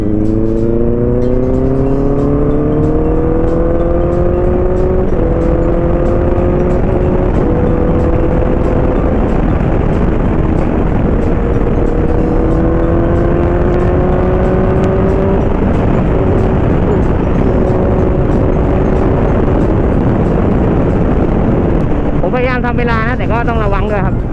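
A car cruises at speed with a loud, steady engine hum that rises and falls in pitch through gear changes, mixed with road and wind roar from inside the cabin.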